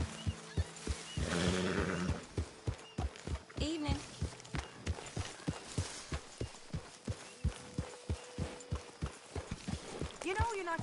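Horse hooves and a whinny in Red Dead Redemption 2, with a steady, close clip-clop of walking hooves throughout and an earlier loud neigh, under a voice speaking at times.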